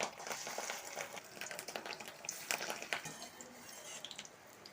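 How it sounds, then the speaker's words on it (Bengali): Fish roe fritters sizzle in hot oil in a pan, a steady close crackling hiss with scattered sharp pops and spits throughout. "এবার আমি বড়াগুলো ভেজে নেবো।"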